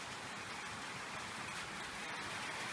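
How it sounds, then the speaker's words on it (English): Hail falling outdoors at a barn on a cold day, a dense, steady hiss-like patter that stays even and unbroken throughout, with no voices. "Okay, so it's hailing."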